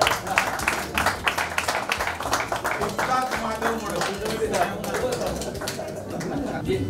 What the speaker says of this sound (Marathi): माधव मोडसाठी सर्वांनी टाळ्या वाजवा